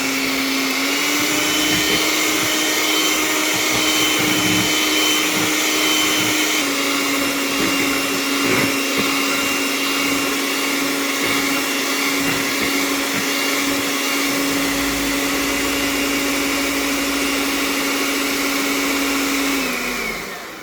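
A mixer runs steadily while blending chocolate brownie batter, giving a loud, continuous motor whir whose pitch shifts slightly a few times before it winds down at the end.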